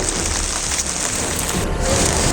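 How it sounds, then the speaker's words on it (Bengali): Rain falls in a forest as a steady, loud wash of hiss and patter with no break, broad and close. "এখান দিয়ে বৃষ্টি হচ্ছে"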